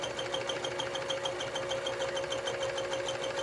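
A sewing machine stitches through the mesh of a laundry bag in a steady, close, continuous whir with a fine rapid pulse and no voices.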